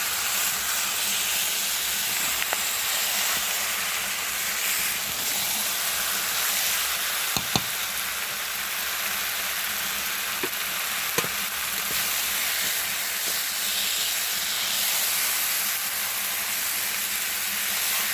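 Chicken curry with potatoes steams and sizzles steadily in a pot for a long stretch, a continuous close hiss with a few faint clinks as it is stirred.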